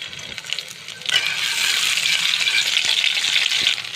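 Dried red chillies and crushed garlic cloves sizzle in hot mustard oil, the frying starting quietly and swelling after a second into a steady, loud crackle with faint stirring clicks; no one speaks.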